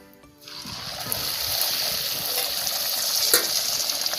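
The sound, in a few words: radhaballavi dough frying in hot oil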